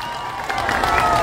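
Crowd clapping at an outdoor political rally in Damak, Jhapa, a dense wash of applause that swells in the second half, with faint cheering mixed in.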